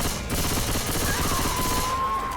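Rapid, sustained gunfire from Left 4 Dead 2 rattles on loudly and steadily through the whole stretch, dense bursts overlapping with no pause.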